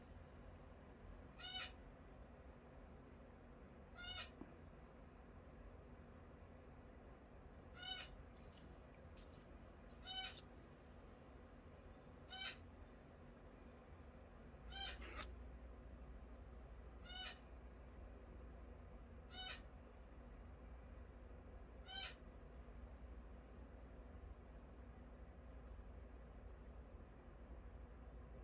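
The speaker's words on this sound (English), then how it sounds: "I have a cockatoo, and sometimes they get quite noisy." A pet cockatoo calls in the background of a quiet indoor room, about nine short, sharp, evenly spaced squawks over steady low hum, faint and somewhat distant.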